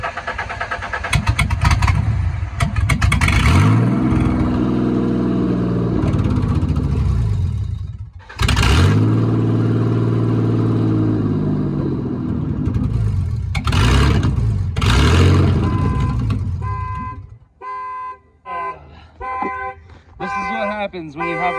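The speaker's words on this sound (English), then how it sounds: "This daggum car is loud" A loud, modified twin-turbo Ford Mustang drift car engine with no O2 sensors revs hard several times, the roar rising and falling in long surges before dropping to a rough, uneven idle.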